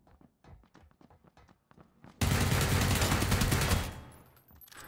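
Gunfire in the video game PUBG, a few scattered quieter shots and footstep-like clicks followed by a loud sustained burst of automatic fire lasting about two seconds, then fading.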